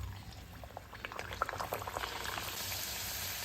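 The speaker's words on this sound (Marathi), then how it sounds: "लो टू मीडियम फ्लेमवर ह्या सगळ्या पुऱ्या तळून घ्यायच्या" Puris, fenugreek-flavoured, frying in hot oil over a low to medium flame, a dense continuous bubbling sizzle close by that builds and stays steady throughout.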